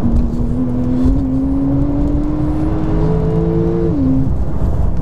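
Porsche 911 Turbo S accelerating hard in a straight line, its engine note climbing steadily through the gears with a shift near the end, loud and close, with no talk.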